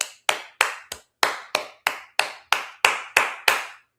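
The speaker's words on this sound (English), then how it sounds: "I'm clapping for myself." A single person claps hands twelve times in a steady, even rhythm, each clap sharp and close, with no other sound around it.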